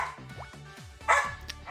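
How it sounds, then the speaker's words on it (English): Several dogs bark and yip in a quick, excited burst, close and fairly loud, with short whimpering yelps between the barks and no talking. "Bark, bark, bark, bark, bark."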